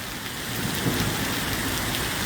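Steady heavy rain pours down during a severe thunderstorm with dense fog, a dense continuous hiss of drops on surfaces, fairly close and uniform throughout, with no voices.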